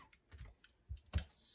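Scissors cutting fabric squares for a Tilda doll, a few quick, crisp snips close up and quiet, separated by short pauses.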